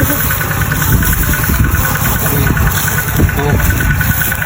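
A loud, steady engine drives a water pump that drains water to catch fish. It runs continuously at idle with a rough, vibrating drone, and voices come and go faintly underneath.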